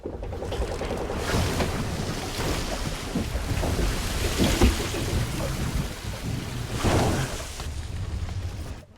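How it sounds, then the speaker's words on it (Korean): Heavy storm roar at sea around a sailboat, with surging, crashing waves and gusting wind, loud and continuous, with swells rising and falling throughout. "거센 파도 소리에 눈을 뜬 남자."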